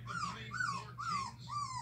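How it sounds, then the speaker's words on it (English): Three-week-old female pitbull puppy whining in repeated rising-falling whimpers, four close, fairly loud cries in steady rhythm over a low indoor hum. "She literally whines too much right now."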